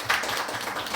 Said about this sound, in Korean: 우리 한번 박수로 한번 환영하겠습니다